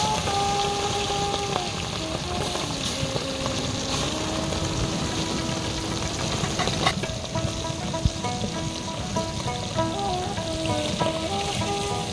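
Fish sizzles and crackles in hot oil in a village kitchen, a continuous frying hiss with a few small pops and stirring knocks, with no talking heard.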